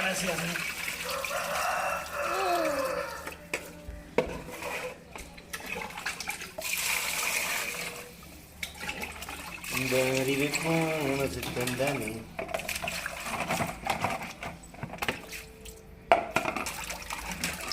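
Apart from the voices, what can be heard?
water poured over fish while rinsing it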